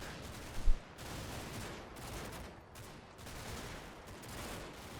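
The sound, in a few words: gunfire from Combat Mission video game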